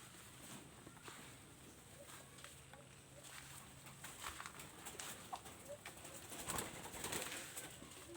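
Low soft cooing from a tukmo dove repeats over a faint background of rustling and clatter, close but quiet.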